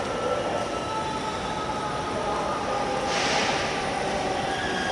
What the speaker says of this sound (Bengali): ওই যে রেল আসতেছে।